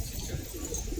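Pigeons cooing in a coop of high-flying pigeons, soft low coos under a breezy, noisy background, faint and brief.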